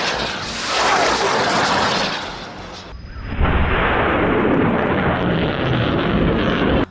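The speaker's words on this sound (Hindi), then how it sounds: "उसने यहाँ पर 114 mm के कैलिबर रॉकेट दागे हैं।" Two bursts of 114 mm caliber rockets fired from a launcher in a Gaza combat setting, each a loud, broad roaring whoosh, the first lasting about three seconds before a brief dip and the second sustained to the end.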